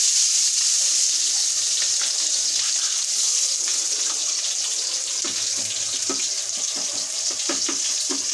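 Onions dropped into hot oil for a Bengali shahi roast, a steady loud sizzle with faint crackles, no talk.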